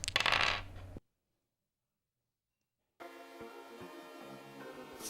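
A dice-roll app's rolling effect plays two dice as a brief bright clatter of clicks that cuts off into silence. Soft tonal background sound follows, with no voices.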